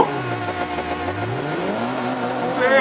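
A KTM X-Bow revs hard on the Laguna Seca circuit in Forza 5. Its turbocharged engine climbs and falls in pitch as a steady, loud mechanical drone that fills the whole stretch, with a sharper rise near the end.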